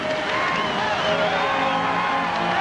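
Stadium crowd at the 1980 Lake Placid Winter Olympics opening ceremony roars and cheers steadily as the home team enters, a dense, continuous wall of voices with no break throughout.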